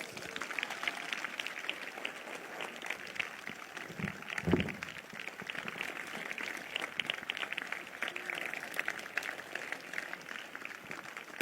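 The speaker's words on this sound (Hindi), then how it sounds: "तालियां नहीं रुकनी चाहिए।" A congregation at a Christian prayer and prophecy meeting claps continuously, heard at a modest, somewhat distant level as a steady patter with a brief low thump midway.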